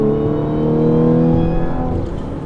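Audi S5 driving on the road, its engine a steady, continuous hum with a low harmonic drone that holds level throughout, close and loud with no talking.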